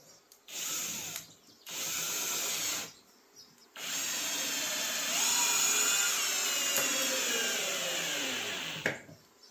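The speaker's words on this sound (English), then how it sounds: "I'm going to put the plywood on first so we can actually see what we're doing. So, okay, come back here with the 3-inch screws" A power drill drives 3-inch screws into plywood shop steps in three bursts, each a loud whirring run, with the last one long and rising in pitch before the screw seats and the motor stops.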